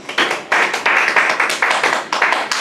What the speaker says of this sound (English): let's give him a big applause for the nice presentation